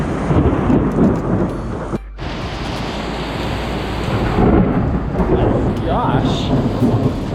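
A heavy thunderstorm with pounding rain and hail in Mitla: a loud, dense roar of rain fills the whole stretch, with rumbling thunder underneath and one momentary dropout near two seconds, no talking.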